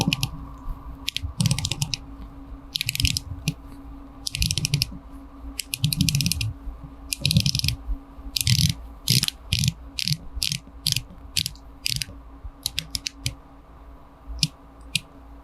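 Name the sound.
Seiko Prospex SPB349 dive watch bezel being turned, clicking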